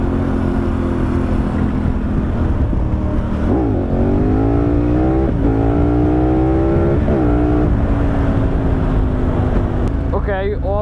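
KTM 1290 Super Adventure S motorcycle with an Akrapovic exhaust, traction control off, accelerating hard into a wheelie; loud close engine rises through repeated upshifts in a rough, droning rev pattern, with wind noise throughout.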